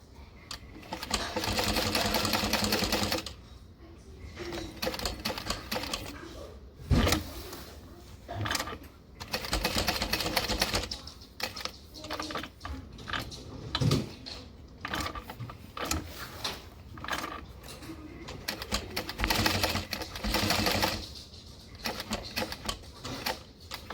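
Stitching a rectangle on fabric, a sewing machine whirs in several bursts of rapid, rhythmic needle clatter, separated by pauses with small clicks and handling noises.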